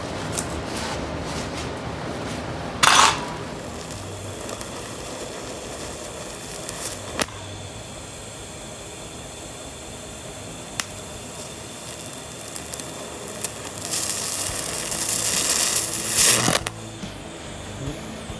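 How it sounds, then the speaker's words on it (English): TIG welding lays a bead without filler rod on a custom rotisserie mount for a '70 Challenger repair, a steady close crackling hiss running throughout with a few brief sharper bursts and no talk. "that should be perfect for just TIGging right there and just doing the bead without any fill"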